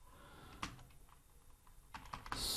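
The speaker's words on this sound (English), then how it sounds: "let's go to our command prompt or git bash, and here we will type" Command typed on a computer keyboard at a command prompt: scattered close key clicks and a few sharper keystroke taps, quiet and uneven in rhythm, with no talking.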